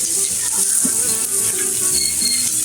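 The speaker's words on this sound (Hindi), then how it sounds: "ये मैंने ली है बस 3 प्याज, ये सब इसमें जाएंगी" Three onions fry in a pan for chicken chilli and egg fried rice, a close, continuous crackling sizzle with faint stirring, heard alone.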